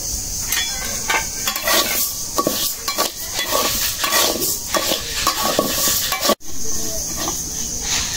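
Mung and masoor dal are dry-fried in a pot while being stirred, giving continuous scraping and rattling of lentils against metal with faint sizzle and a brief knock near the end.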